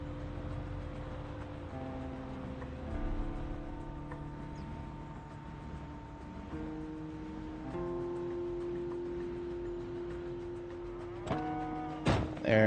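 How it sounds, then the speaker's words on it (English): Cattle mooing in the survival video game Project Zomboid: several long, sustained lowing calls follow one another over steady ambient background, fairly close and clear, with a brief louder burst near the end. "There's the mooing."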